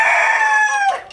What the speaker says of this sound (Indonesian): mau bertelur suaranya kayak gini,